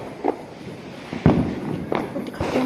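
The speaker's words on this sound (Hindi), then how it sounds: "और पापा वहाँ पे पटाखे जला रहे हैं।" Firecrackers go off at a Diwali celebration, several sharp pops and thuds spaced irregularly at a moderate distance, with faint background chatter.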